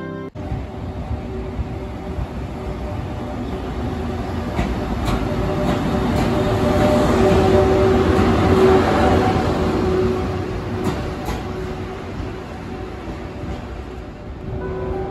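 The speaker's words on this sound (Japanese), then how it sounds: "EF81 こちらに向かってきます。" A JNR-type EF81 AC/DC electric locomotive approaches on the Uchibo Line, a loud rumbling roar of motors and wheels on rails that swells as it nears and then slowly eases off.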